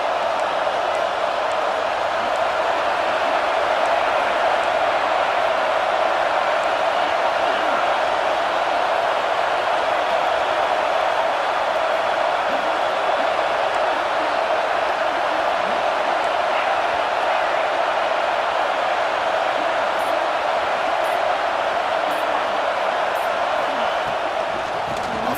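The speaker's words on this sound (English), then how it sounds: "This crowd is trying to inspire this defense to make a big red zone stop." Packed college football stadium crowd at a Georgia vs UCLA playoff game, roaring in a sustained, dense wall of noise that stays loud and even throughout, with commentary voices underneath.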